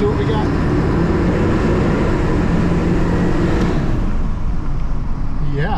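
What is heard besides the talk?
1999-2003-era Ford F250 Super Duty 7.3 Powerstroke diesel truck driving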